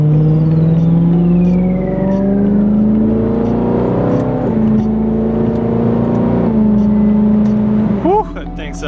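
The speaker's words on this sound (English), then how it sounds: "Man, I love the S65. Such a good sounding motor." A BMW E90 M3 with the S65 V8 engine, close up and loud, holding a sustained high rev that climbs slowly, dips and climbs again, then drops sharply as the throttle comes off near the end.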